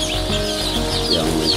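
Javanese free-range village chickens on a farm in Cirebon cluck and chatter together, a close, busy burst of overlapping calls.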